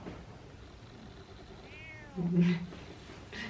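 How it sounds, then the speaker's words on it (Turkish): A single short cat meow rises briefly over a quiet, noisy room background, followed by faint soft sounds. "Öyle bir miyavladı ki."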